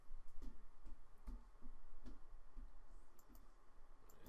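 Several sharp computer mouse clicks, spaced irregularly and fairly quiet, over a low steady room hum with no voices.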